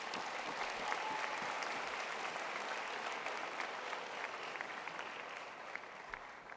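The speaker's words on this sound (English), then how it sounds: "each deserve a round of applause" A large audience at a college sports awards show gives sustained applause for the award nominees, a dense, even wash of clapping that holds steady throughout.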